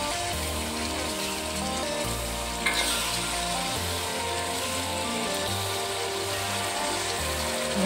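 Country chicken masala curry frying in a pan while being mixed, a loud, close, constant sizzle with repeated scraping stirs and a brief clatter partway through, no voices.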